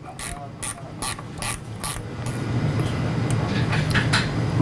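A ratchet snugs up a 7/16 bolt on a sliding door, giving several quick bursts of clicking pawl strokes near the mic, followed by a rougher continuous mechanical rattle.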